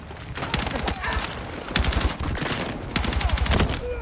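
Rapid gunfire from the Battlefield 6 video game, a dense run of sharp repeated shots in bursts, though a pump shotgun's single heavy blasts do not clearly stand out.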